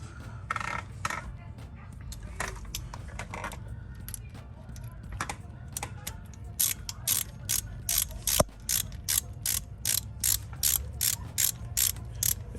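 A ratchet tightens wheel hub bolts on an Acura RL, irregular clicks at first, then a steady run of sharp, close ratcheting clicks in quick even bursts over a low background hum.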